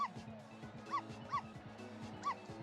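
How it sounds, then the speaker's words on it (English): Dog barking in the Ghost Trick: Phantom Detective video game, with short, yappy barks and whimpers repeating in quick bursts over a quiet background of low game music. "Dog starts barking."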